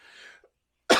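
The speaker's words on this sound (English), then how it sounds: "I got to cough again." A single sharp, close cough bursts out at the end, after a faint hiss and a moment of silence.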